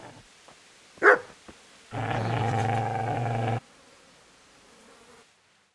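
A dog in the video game Kingdom Come: Deliverance gives one sharp, close bark. A long, low, buzzing growl follows for about a second and a half before it falls quiet, and there is no speech.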